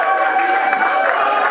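Crowd at an 80th birthday celebration in Matadi cheering and clapping, a short loud dense burst of mixed voices and applause with steady tonal sounds running underneath.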